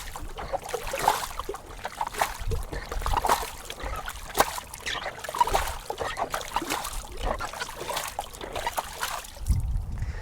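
Hot tub water being swept by hand down into the footwell and drained by a pump, heard as a steady close trickling and splashing with irregular sloshes throughout.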